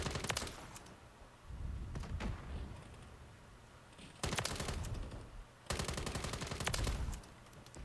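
Bursts of rapid automatic BAS-B rifle fire in Call of Duty: Modern Warfare 3, several loud sustained volleys separated by brief pauses, close and sharp.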